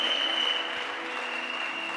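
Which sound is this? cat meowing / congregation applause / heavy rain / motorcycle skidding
congregation applause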